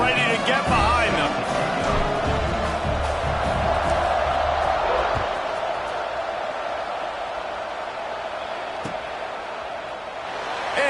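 A stadium crowd roars and cheers before a kickoff in the game College Football 25, a broad sustained wash of noise that swells and then slowly fades, with a commentator talking over it.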